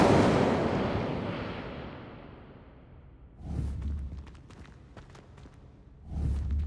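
An Incendio fire spell cast in a Harry Potter video game: a loud whooshing burst that decays over several seconds, followed by scattered crackles and thumps, with another burst starting near the end.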